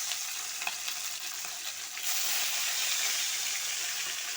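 Fish pieces sizzle in hot mustard oil in a home kitchen, a continuous bright frying hiss that swells noticeably louder partway through and stays steady, with no talk.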